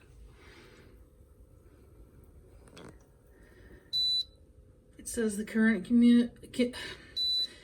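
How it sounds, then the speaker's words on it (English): An Air Innovations humidifier running empty of water gives two sharp electronic beeps a few seconds apart, while a nearby voice talks between them. "It's beeping because it doesn't have any water in it."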